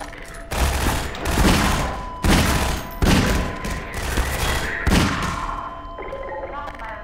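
Dense, loud bursts of rapid gunfire from Half-Life 2 come in several volleys with heavy thumps, and a voice talks intermittently over the shooting.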